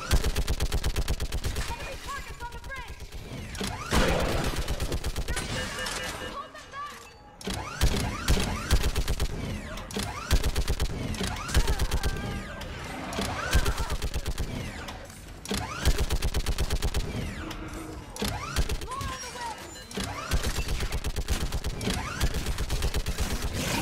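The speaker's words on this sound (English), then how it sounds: "Get on that gun and do some damage." Sustained machine gun fire from a mounted gun in the Mass Effect 3 Citadel battle, dense rapid bursts running nearly throughout with brief pauses, loud and close, with occasional voices underneath.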